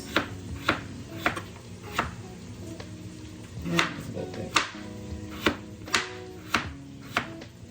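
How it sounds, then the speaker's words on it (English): A knife slices through a potato on a cutting board, about a dozen crisp close cuts landing in a steady, even rhythm. "And then I got one more potato to cut."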